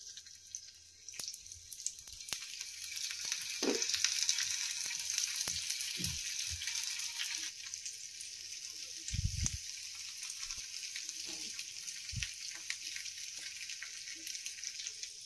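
Pumpkin leaves fry in hot oil over a low gas flame, a steady soft sizzle and crackle throughout, with occasional small pops and clinks of handling over the frying.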